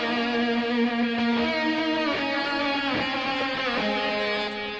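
A sustained distorted lead guitar line with a thick, buzzing harmonic tone plays loud and continuous, holding notes and shifting pitch, mixed so it moves from one side back toward the center.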